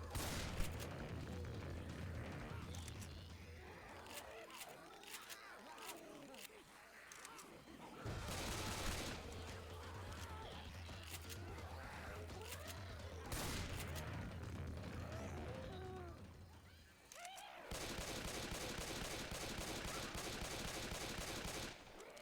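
Gunfire in Left 4 Dead 2, bursts of shots crackling through a busy game mix with chatter, broken by pauses and ending in a sustained loud burst.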